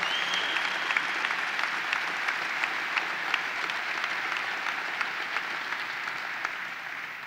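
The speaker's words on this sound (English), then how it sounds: "Ben Walsh, let's give him a big round of applause." Steady audience applause at the opening ceremony of the New York State Fair, a dense wash of many hands clapping that continues evenly throughout without any voices over it.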